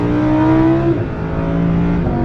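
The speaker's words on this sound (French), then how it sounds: "il y a un moteur qui chante, ce caractère de moteur atmosphérique" A naturally aspirated supercar engine revs loudly and close up, its pitch climbing and then dropping before it settles into a steady, sustained drone with no talking.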